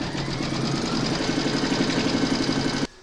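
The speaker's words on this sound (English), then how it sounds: "Pop your hoop into your machine and stitch colour number 3 to secure it." An embroidery machine stitches fabric held in a hoop with a rapid, even mechanical whirr and needle chatter, close and steady for nearly three seconds before stopping abruptly.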